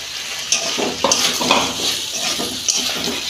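Potatoes and cauliflower with spices sautéing in a pan for a vegetarian Bengali dish, a busy sizzle with repeated scraping stirs and utensil knocks against the pan, close and continuous, without talk.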